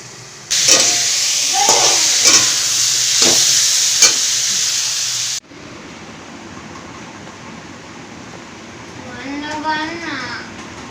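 Food fries in a home kitchen pan with a loud, bright sizzling hiss and a few stirring clinks for about five seconds. Then the sound cuts to a quiet room where someone briefly talks.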